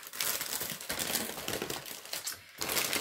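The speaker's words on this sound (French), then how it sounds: "j'ai trop hâte d'ouvrir le paquet" A plastic snack bag, a multi-pack of snacks, is handled and opened close by, giving continuous crisp crinkling and rustling with a brief lull near the end.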